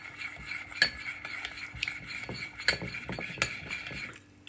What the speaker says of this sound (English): you want to give that a mix